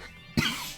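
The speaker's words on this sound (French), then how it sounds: "Excusez-moi pour la toux." A single short, sharp cough, close to the microphone, breaks an otherwise quiet moment.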